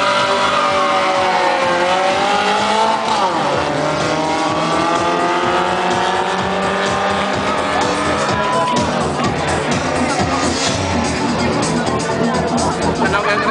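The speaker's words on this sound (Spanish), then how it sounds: "Dos autos en el King Royal Racing." Toyota Starlet and Nissan Bluebird race cars accelerate hard side by side in a 2007 drag-racing elimination, engines revving with rising pitch and shifting gears, loud and continuous over crowd noise and an announcer's voice.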